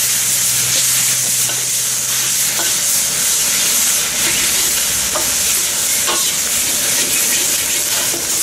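Beef chow mein stir-frying in a hot wok outdoors, a loud, dense, unbroken sizzle and hiss with occasional faint clanks of the utensil, with no voices.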